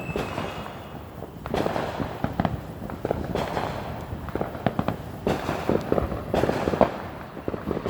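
Fireworks bursting outdoors at night, a string of sharp cracks and pops spread unevenly across the clip, some close and loud, others fainter, over a steady rain-like hiss.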